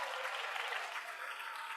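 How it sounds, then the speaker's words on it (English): Scholars in a large audience at a competition event give a singer a burst of applause, a brief, full, even wash of clapping. "Scholars, can we give her a huge round of applause?"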